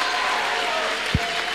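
An indoor audience claps steadily for a while at a school event on the fight against AIDS, a dense even patter with one brief thump near the end.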